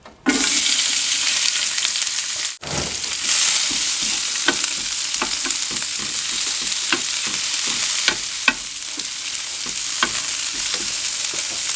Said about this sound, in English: come in with some olive oil. Some olive oil down. And we're going to go on with our onions.